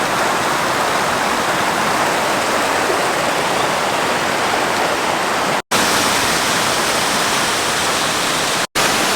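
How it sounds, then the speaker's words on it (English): Waterfall at Skjolden, Norway, a loud, steady roar of rushing water filling the whole clip up close, with no voices. "to come get a closer view of the waterfall"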